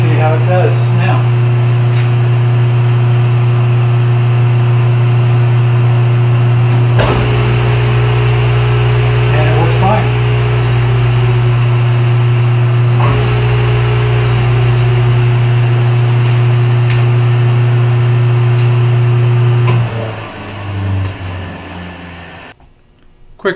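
Electric motor of a homemade 2x72 belt grinder running after being plugged back in, a loud steady hum with sharp clicks, then spinning down and going quiet near the end.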